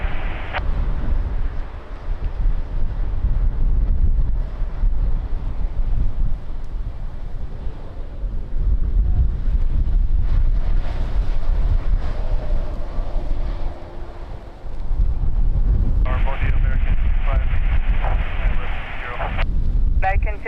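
Strong wind buffets the microphone at Lisbon Airport with a heavy, low rumbling roar that rises and falls in gusts, while radio chatter and talking come through underneath.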